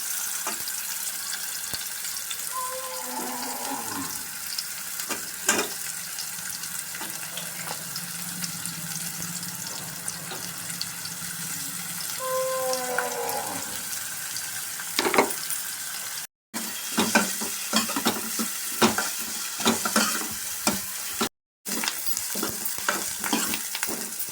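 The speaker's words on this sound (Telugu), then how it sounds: "నెక్స్ట్ ఆనియన్ వేసి బాగా ఫ్రై చేసుకోవాలి" Onions fry in a pan for a Telugu coconut-piece pulusu, a steady sizzle broken by repeated scraping stirs and light clatter of the spoon, close and continuous with no voices.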